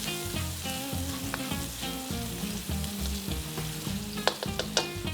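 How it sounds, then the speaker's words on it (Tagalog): Garlic sautéing in margarine in a pan, a constant bright sizzle with a low humming tone underneath and a few crisp utensil taps near the end. "saute na lang natin konti hanggang sa lumabas yung amoy ng garlic"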